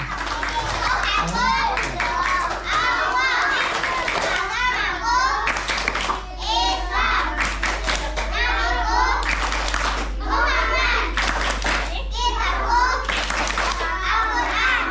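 Children chanting and clapping the 'tepuk Islam' rhythm at a children's Islamic gathering, bursts of sharp claps alternating with shouted young voices in a repeating pattern, loud and close.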